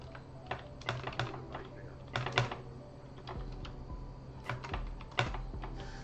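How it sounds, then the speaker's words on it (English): Typing on a computer keyboard, with quick bursts of close, crisp key clicks separated by short pauses and no talking. "I was typing way ahead."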